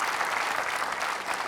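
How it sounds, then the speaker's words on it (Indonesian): Audience applause at an Indonesian evening talk show honouring a guest, dense steady clapping filling the room at even loudness throughout, with no voices over it. "Tepuk tangan dong buat Pak Deddy Susanto."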